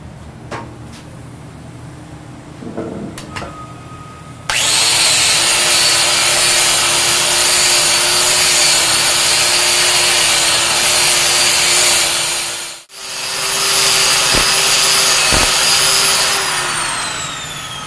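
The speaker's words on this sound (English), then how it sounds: "I don't have much of my stainless steel wire wheel left." A stainless steel wire wheel on a power tool starts abruptly and spins at a loud, steady whine, briefly dipping and spinning back up partway through, close and continuous with no talk.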